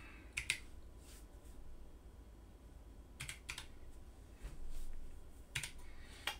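Bursts of typing on a computer keyboard during STM32 and flash programming work, clustered clicks arriving in quick groups with pauses between them, fairly close against a steady low room hum.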